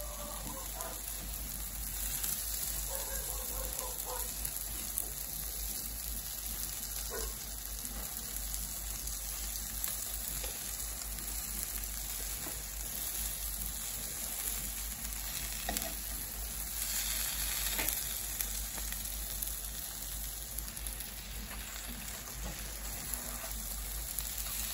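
Food frying in a lightly oiled pan on a stovetop, a steady dense sizzle and crackle throughout with occasional brief stirring and flipping sounds, no talking.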